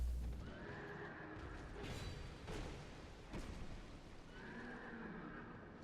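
Horse neighing in Dark Souls 2, a long whinny heard twice over a rumbling game soundscape with heavy low thuds between the calls.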